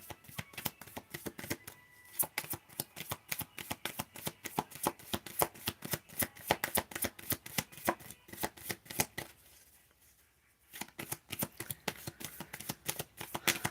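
A deck of oracle cards is shuffled up close, with quick, rhythmic riffling flicks that repeat steadily, a brief quiet pause partway through, then the shuffling resumes.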